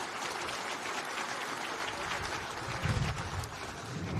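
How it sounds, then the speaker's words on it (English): Audience at an economic forum applauding Emmanuel Macron, a dense, even wash of many hands clapping at a distance, steady throughout with a slight swell near the end. "on peut l'applaudir"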